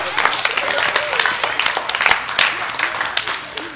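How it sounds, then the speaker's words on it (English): A church congregation breaks into a burst of hand clapping, with sharp, uneven claps mixed with crowd voices and talk, lasting a few seconds. "Give me a hand clap."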